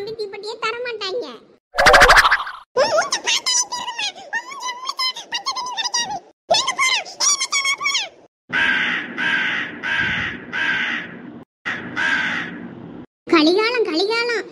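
Cartoon crow cawing in a Thoothukudi-slang comedy, with repeated harsh caws in short bursts separated by brief gaps, mixed with springy boing effects and voices talking.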